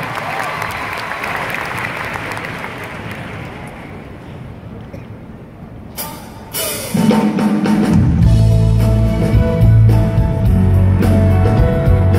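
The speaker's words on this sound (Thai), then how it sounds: "พร้อมนะปรบมือดังๆครับ" Audience applause at The Mask Concert 3 in Thailand, a steady wash of clapping and crowd noise for several seconds before it gives way to loud music with a deep bass line and sustained tones.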